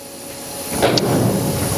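A 2011 Haas VF2SS 5-axis vertical machining center with a 10,000 RPM spindle runs as its X-axis moves, a low whooshing hum that swells partway through, with a faint high whine throughout.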